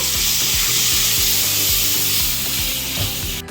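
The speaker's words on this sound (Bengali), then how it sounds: "একটু জল দিয়ে কষিয়ে নেব।" Ground spices fry with a splash of water in a pan, giving a loud, close, continuous sizzle with rhythmic scraping strokes from a stirring utensil, cutting off abruptly at the end.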